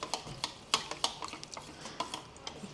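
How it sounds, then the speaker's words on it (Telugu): A spoon stirs custard powder mixed with liquid in a bowl, giving quick, irregular clinks and scrapes against the sides over a quiet background. "మంచిగా ఉండలు లేకుండా మిక్స్ చేసుకోవాలి."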